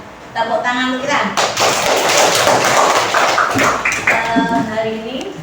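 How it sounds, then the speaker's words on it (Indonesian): A class of students claps their hands together in a burst of broadband noise, framed by a teacher's voice talking before and after. "Tepuk tangan dulu kita."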